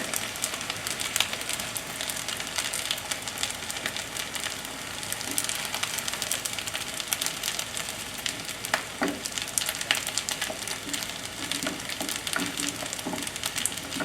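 Beaten eggs fry in a pan for fried rice, giving a steady, close crackling sizzle with scattered pops and no one speaking.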